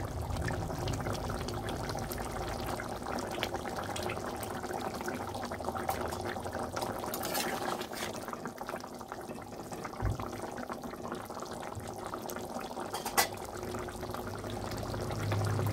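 Tilapia fish pieces, head and tail portions, simmering in gravy in a pan, with continuous soft bubbling and occasional small pops throughout.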